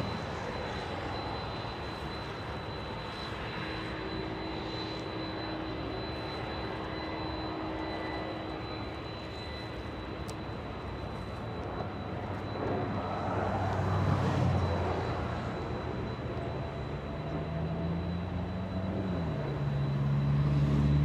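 A SkyWest airliner on approach to Los Angeles International Airport, a steady distant roar of engines that slowly swells louder in the second half as the plane draws nearer, with no voices.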